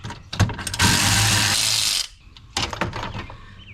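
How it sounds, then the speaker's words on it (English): A ratchet wrench works a 10mm bolt out of an aluminum bracket on a new Bronco, giving close mechanical clicks and a sustained whirring burst, then a few more ratcheting clicks. "just have to take this 10mm bolt out"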